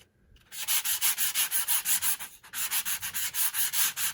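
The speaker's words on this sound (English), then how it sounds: "Let's see if we sand it a little." Sanding strokes across textured embossed cardstock, a steady run of about eighteen quick, even back-and-forth rubs after a short quiet start, close and loud with a brief pause midway.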